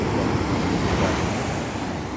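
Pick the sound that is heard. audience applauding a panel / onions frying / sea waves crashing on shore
sea waves crashing on shore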